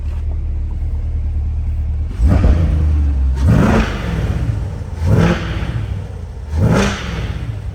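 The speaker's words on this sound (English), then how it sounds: "Love the bark with the performance exhaust ports open" A 2020 Corvette C8 Z51 3LT convertible with its performance exhaust open settles into a low rumbling idle, then barks through four sharp revs at steady intervals. The revs are close and loud, and no one speaks.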